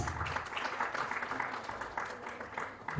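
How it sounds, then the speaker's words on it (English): Audience at a conference inauguration in New Delhi clapping steadily, a dense, even applause from a seated crowd that carries on through the whole moment. "A round of applause."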